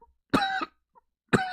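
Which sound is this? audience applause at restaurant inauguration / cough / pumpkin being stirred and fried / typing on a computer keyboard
cough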